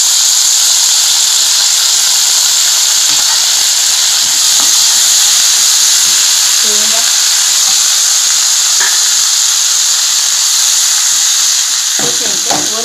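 Water heats to a boil for rava upma with a constant loud steamy hiss and faint bubbling, plus a few soft clinks near the end.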